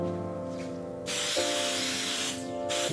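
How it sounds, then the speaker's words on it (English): A can of coconut-scented nail drying spray is shaken and then sprayed onto nails, giving two close, steady hissing bursts separated by a brief pause. "Shake it up and go ahead and spray your nails."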